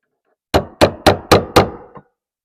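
Five sharp metal taps of a chisel struck around the lock ring of a diesel fuel pump on a 1.9 diesel Golf Mk5, evenly spaced and close, followed by a faint final tick.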